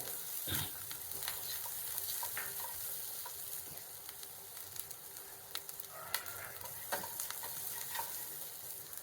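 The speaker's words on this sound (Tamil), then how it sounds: "5 கேஷ்யூம் போட்டுக்கோங்க. முந்திரி பருப்பு வதங்கட்டு." Cashews and grated coconut frying in a pan, a quiet steady sizzle with scattered stirring taps and scrapes of a spoon, no talking.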